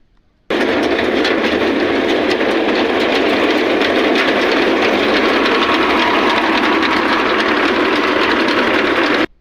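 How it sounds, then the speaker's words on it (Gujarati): A wheat thresher on a farm starts abruptly and runs at full power, a loud, continuous close-up mechanical roar and rattle that holds steady until it cuts off at the end. "તો ચાલો હવે કરવી મારું ભાખડા જેવું થ્રેસર ચાલુ."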